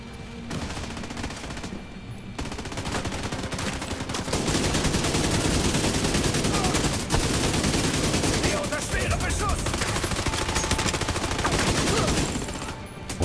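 Heavy gunfire in Tom Clancy's The Division 2 rattles almost without pause, dense automatic bursts and shots layered loud and close, easing briefly near the start and fading at the end.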